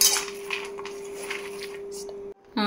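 A spoon scrapes and clinks against a pan while mixing bitter gourd fry, soft metallic stirring with a steady background hum, ending in a brief pause and a sharper clatter.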